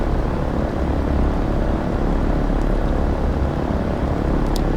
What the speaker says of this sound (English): First real takeoff in this airplane.